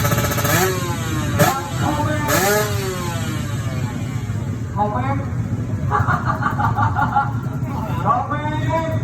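Drag bike engines at a regional drag race rev sharply in several rising bursts, then settle into a rough buzzing idle, heard close and loud over crowd babble and an announcer's voice.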